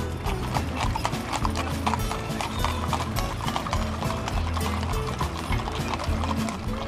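Steady clip-clop of many horses of a wagon train walking on a hard road in Alabama, continuous and close, with faint voices mixed in.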